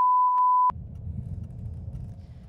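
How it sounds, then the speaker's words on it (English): Electronic beeps in the video game Bioshock Infinite, a steady tone broken by two short pips, ending abruptly and followed by a low rumbling ambient drone. "Beeps are coming in again."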